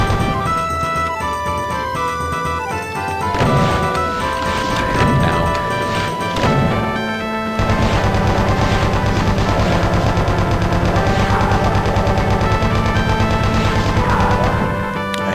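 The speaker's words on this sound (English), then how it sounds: "I'm gonna come out here with a chain gun and just finish these guys off." A chain gun fires in Doom II in long rapid bursts, close and loud, layered with other game combat sounds and a droning music bed.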